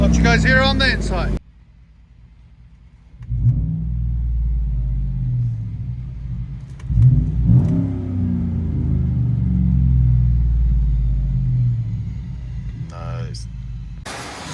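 From inside the cab of a Chevy Silverado with straight-pipe exhaust, a deep muffled rumble rises in two or three rev bursts after a brief quiet gap, with a voice heard briefly at the start.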